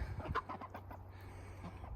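Hens cluck softly in short, scattered bursts over a low steady background hum, fairly close and quiet, in a chicken coop in winter.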